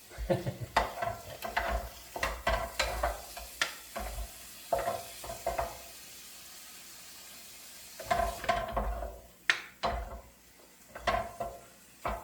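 Onions and chorizo being fried and stirred in a pan, heard as bursts of scraping and clattering stirring over a soft sizzle, with quieter pauses between them and no speech.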